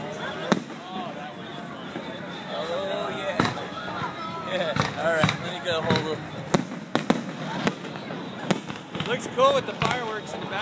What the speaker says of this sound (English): Cool with the fireworks in the back.